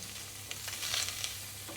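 Bacon frying in a pan, a soft continuous sizzle with faint crackles, fairly quiet and steady with no voices.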